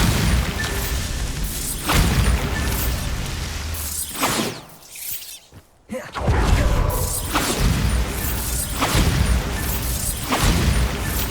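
Bombarda blasting spells in Hogwarts Legacy set off repeated booming explosions with rumbling low ends and bursts of debris, broken by a brief whooshing dip into near silence before the blasts resume.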